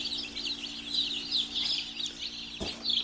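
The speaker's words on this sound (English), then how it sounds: "And just like Matt said, we get all of our chicks from Stover Hatchery in Stover, Missouri." Young chicks from a hatchery in Missouri cheep continuously in a dense, overlapping chorus of high peeps, close and steady throughout, with a brief thump near the end.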